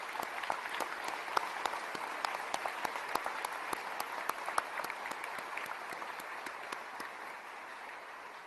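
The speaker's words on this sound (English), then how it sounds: "Let's give these families a round of applause." Sustained applause from an audience at a military change of command ceremony, a dense, even patter of many hands clapping at a moderate distance that continues steadily before tapering slightly at the end.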